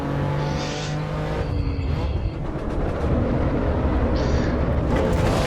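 BMW M3 exhaust rasp from the Assetto Corsa Evo racing game, a loud continuous engine note rising and falling with gear changes and revs, with someone talking over it.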